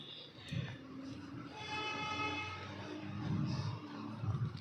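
Train passing through the Dr. Ambedkar Chowk metro station in Agra, a steady rumbling roar with a sustained high whine running through the middle, heard at moderate distance without talk.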